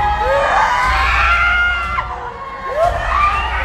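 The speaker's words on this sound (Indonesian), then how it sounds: "Ada yang teriak." A person screams loudly during a ruqyah session, a sustained wailing cry with rising and falling pitch, joined by other shrill voices and crowd noise around it.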